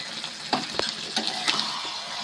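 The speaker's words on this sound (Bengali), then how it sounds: "আলু আর এঁচোড় আবারও খুব ভালোভাবে মিশিয়ে কষিয়ে নেব" Young jackfruit and fried new potatoes are stir-fried in a pan, a soft steady sizzle under scattered scrapes and taps of the spatula, close and fairly quiet with no talking.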